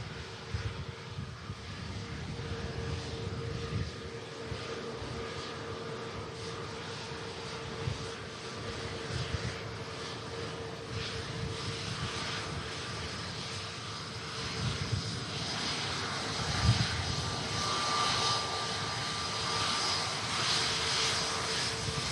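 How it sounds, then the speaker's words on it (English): Virgin Atlantic A330 jet at Manchester Airport, lined up and departing for New York JFK; a sustained jet engine roar with a steady whine, moderately distant, swelling gradually with no talk over it. "Virgin 330 lined up for departure to New York JFK"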